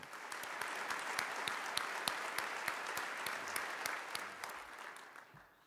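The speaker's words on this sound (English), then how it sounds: "Would you please join me in giving them a round of applause for the great job that they do?" Sustained audience applause at a mayor's State of the City address in 2012, honoring city department heads; dense, steady clapping from a large indoor crowd that tapers off at the end.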